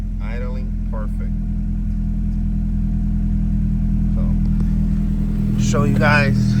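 Engine of a 2002–2006 Acura RSX with a tucked engine harness idles steadily at close range, a constant low hum, while someone talks briefly over it.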